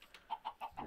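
Minecraft chicken clucking in the video game, four short evenly spaced clucks, fairly faint and heard alone with no talking.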